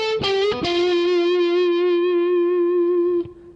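Electric blues guitar, a couple of quick picked notes followed by a bent note held with slight vibrato for about three seconds before it is cut off, loud and clear with no talking.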